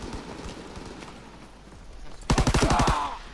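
Video game gunfire: a sudden, loud rapid burst of automatic shots rattles out near the end after a quieter stretch of background battle noise.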